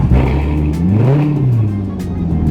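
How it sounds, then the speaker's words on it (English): A 2017 Corvette Grand Sport 3LT with an aftermarket exhaust revs hard nearby, its deep, loud engine note climbing and falling in pitch, then settling into a throaty idle-like drone. "This one has an aftermarket exhaust, so it's a little bit louder."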